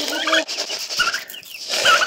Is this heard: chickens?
yes